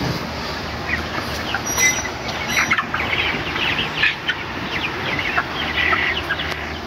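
Flock of 33-day-old broiler chickens in a hot shed, panting in the heat, clucking and murmuring continuously, many overlapping calls close by, with occasional sharper squawks over a steady busy background.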